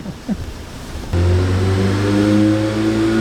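A Volkswagen Golf R engine with a cam magnet failure idles quietly, then suddenly roars into a loud, sustained rev with a steady throaty hum.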